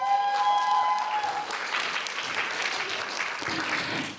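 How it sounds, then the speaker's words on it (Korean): Audience applause at a kids' dance audition as the next young contestant is welcomed, a steady dense wash of clapping from a crowd holding throughout, with a faint tonal sound fading early on. "여러분 큰 박수로 맞이하시죠."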